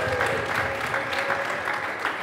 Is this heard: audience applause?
yes